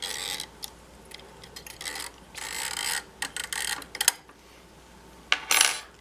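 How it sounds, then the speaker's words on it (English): Metal needles on a vintage sock knitting machine dropping into place, a run of close, sharp clicks and clatters in separate bursts with short quiet gaps between them. "I can just pull my needles up and just drop them for a second."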